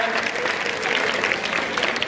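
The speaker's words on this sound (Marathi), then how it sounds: "टाळ्या वाजवून आपल्या मित्रांना प्रोत्साहन द्यायचं आहे" Dense applause from a crowd at a school annual prize-giving ceremony fills the scene evenly and loudly throughout, cheering a student winner.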